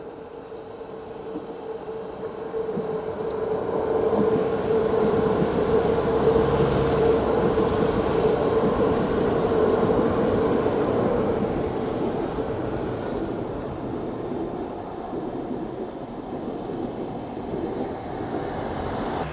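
A train runs past on bullet train tracks in Japan, a sustained loud rumble and rail whine that swells and slowly fades over almost twenty seconds, without talking.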